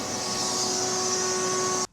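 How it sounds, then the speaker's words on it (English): A shop vac drawing lint out of a clothes dryer that isn't heating runs as a loud, steady, high-pitched whine with a constant hum beneath it, then cuts off abruptly at the end. "let's turn on the shop vac and see how much lint we can pull out"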